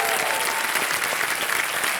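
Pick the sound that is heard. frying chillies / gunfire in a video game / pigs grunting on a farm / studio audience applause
studio audience applause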